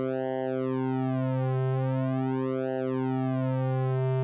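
Wavetable synthesizer playing a held pulse wave as its pulse width is pushed into positive values, a steady buzzy tone whose overtones sweep and shift in repeating patterns, alone with no voices.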